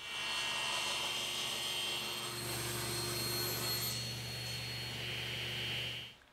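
A table saw rips a walnut board three inches wide for baseboard molding, giving a loud steady whining roar that shifts pitch as the blade cuts, then winds down at the end, with no speech.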